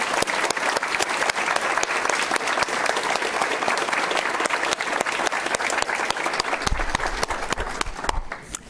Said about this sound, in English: Can we give one more round of applause for all of our winners this evening?